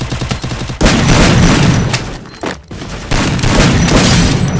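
Dense, loud bursts of gunfire from a shooter video game fill the moment, volleys of shots and booms rolling almost continuously with a brief dip in the middle.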